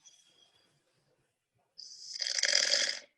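A sleeping patient snores in a recording, a faint rasping breath first, then after a pause one long, loud, harsh snore lasting over a second.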